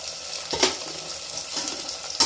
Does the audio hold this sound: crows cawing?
no